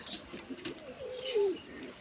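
Domestic pigeons cooing near their eggs and newly hatched chicks at a farm, a soft low coo rising and drawn out near the end, with faint chirps around it.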